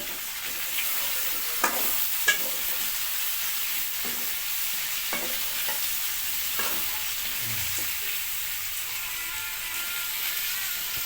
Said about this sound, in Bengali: আমাদের এখানে বেগুন দেওয়া হবে দেখুন কিছুক্ষণ ফ্রাই হবে